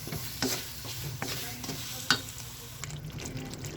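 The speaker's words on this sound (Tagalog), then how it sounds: "Haluin lang natin ng haluin" Shrimp paste (bagoong alamang) with sugar and chili is stirred in a sizzling pan, with soft scrapes and clinks of the spatula over a steady frying hiss at moderate loudness.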